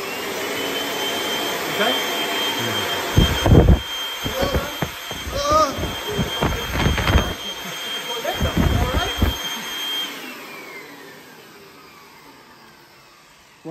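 A Kirby vacuum cleaner with its crevice tool attached runs with a steady high whine, and louder bursts of suction and airflow come through in the middle; a brief voice is heard, and the motor winds down toward the end.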